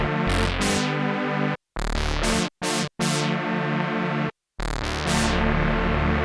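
GForce Prophet-5 software synthesizer playing a sustained polyphonic patch with bright, swelling chords in several bursts separated by short silent gaps, loud and alone with no talk.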